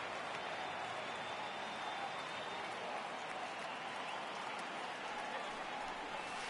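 A baseball stadium crowd in a PS4 video game gives off a constant, faint wash of murmuring and scattered applause, steady throughout with no clear peaks.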